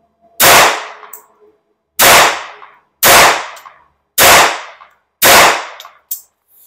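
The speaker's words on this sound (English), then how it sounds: "So this time I'm going to shoot at the left target." Five sharp gunshots from a Beretta 950BS Minx pistol firing .22 short Aguila Super Extra rounds at a range, spaced about a second apart, loud and close, with a fainter sixth report at the end.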